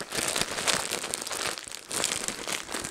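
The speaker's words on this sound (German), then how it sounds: "Dann kann ich nämlich die Tüte gleich nehmen." Plastic shopping bags crinkle and rustle as they are handled after a discount supermarket trip. The crackling is close and continuous, with a brief lull midway.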